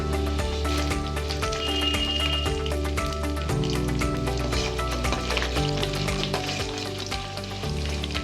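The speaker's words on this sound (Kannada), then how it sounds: "ಬೇಳೆಕಾಳುಗಳೆಲ್ಲ ಕ್ರಿಸ್ಪಿಯಾಗಿ ಫ್ರೈ ಆದ ನಂತರ" Urad and moong dal frying in hot oil for a Melukote puliyogare tempering give a steady, dense crackling sizzle that runs throughout under prominent background music.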